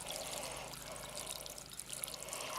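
Water pouring and splashing in a steady, faint stream as chickweed is rinsed outdoors in a vegetable garden.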